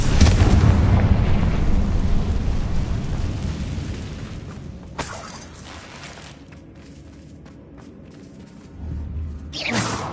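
Fiery Confringo spell blast in Hogwarts Legacy, a loud booming explosion with a long rumbling decay, followed by a sharp burst near the middle and another heavy boom at the end.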